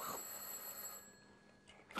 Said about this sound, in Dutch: Telefoon voor Joris